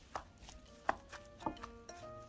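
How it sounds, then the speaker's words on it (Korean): Batter of shrimp, shiitake mushroom, pancake mix, an egg yolk and salt is kneaded and mixed by hand for a shrimp pancake, giving about four soft, wet slaps a half second apart, close up with no talking. "착착착 치대면서 섞어줍니다"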